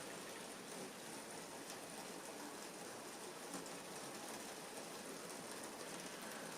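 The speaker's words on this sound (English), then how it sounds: "Apologies for the rain. It's coming down over here in London." Steady, dense hiss of rain coming down in London, a constant wash of noise at an even level with no pauses and no voices.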